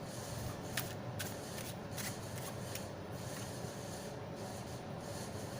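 A deck of tarot cards is shuffled with quick, soft, papery riffles and slides repeating over several seconds. The shuffling is faint and close, with no talk.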